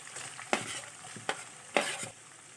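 Onion sizzling in hot oil with fried chillies and curry leaves, a steady crackle broken by several sharp scrapes and clatters of stirring.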